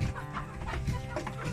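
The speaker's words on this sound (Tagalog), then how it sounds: "mga native chicken ko dito" Native chickens in a backyard clucking softly, a few short, close clucks and murmurs scattered over a quiet moment.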